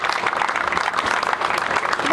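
Steady applause from a crowd in a city square at a sustainable-mobility rally in Milan fills the whole stretch, dense and continuous, with voices mixed faintly underneath.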